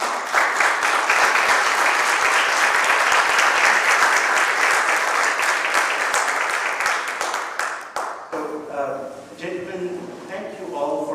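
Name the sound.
audience applause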